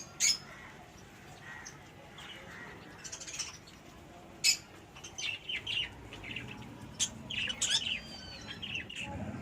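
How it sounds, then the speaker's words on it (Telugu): Small finches in a balcony garden give scattered, bright chirps and short tweets, some close and some farther off, over a soft outdoor background. "అండ్ పైన వచ్చేసి చిన్న చిన్న ఫించెస్ ఉన్నాయి."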